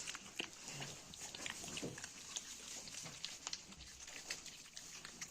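Vietnamese piglets about two to two and a half months old grunt and snuffle in a farm pen, with a busy stream of close, irregular oinks and rustling through the whole stretch.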